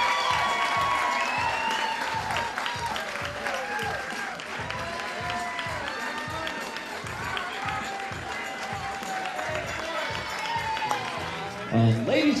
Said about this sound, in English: a very warm welcome and round of applause for the very proud parents of our bride